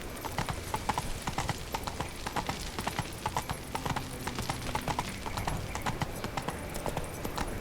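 Roach, the horse in The Witcher 3, gallops with fast, even, rhythmic hoof clip-clops that stay close and loud throughout, with a brief whinny-like sound in the mix.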